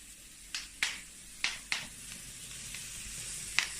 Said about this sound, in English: And you give a nice stir to that.